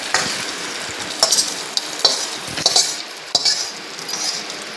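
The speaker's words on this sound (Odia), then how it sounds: "ଫାଇନାଲ ଦହିରେ ଫୁଟଣ ଦିଆହବ।" A tempering (phutana) sizzles hot for dahi baigana, eggplant in yogurt, with a steady close frying hiss broken by sharp clinks and scrapes of a spoon stirring in a metal pan.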